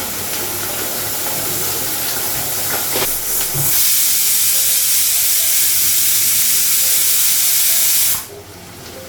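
Turmeric, cumin powder and salt fry in a pan for a mutton meal, giving a loud, steady, hissing sizzle that runs for several seconds before cutting off abruptly near the end.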